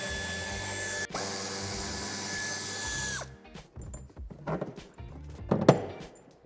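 Power tool spinning out screws from the wheel arch of a 2021 Opel Astra L, a steady whirring burst for about three seconds, then stops, followed by scattered clicks and clunks of handling.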